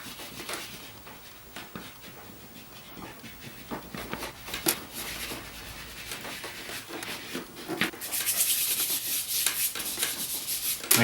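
Pastel rubbed and dragged across paper in an artist's studio, a continuous dry scratchy rasping with quick strokes, close and steady, growing louder and denser toward the end, with no talk.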